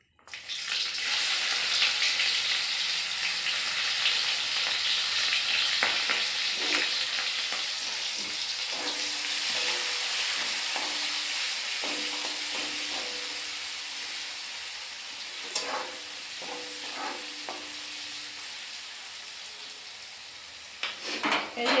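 Chopped onion sizzles and fries steadily in a hot pan for a dried fish curry, a continuous close broadband hiss with occasional stirring clinks and scrapes, no talking over it.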